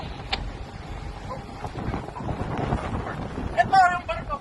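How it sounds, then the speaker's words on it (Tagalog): Strong wind buffets the microphone at a harbor as a container ship drifts toward a dockside crane, a rough, gusty roar with faint voices and a brief high call near the end. "Malakas hangin."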